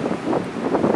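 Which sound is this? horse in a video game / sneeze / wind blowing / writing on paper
wind blowing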